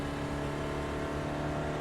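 A sustained, loud engine note from a Spec Racer Ford circling Oran Park in iRacing holds near-constant revs with a steady harmonic buzz and no voices.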